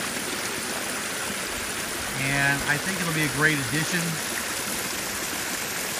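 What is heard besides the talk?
waterfall flowing over rocks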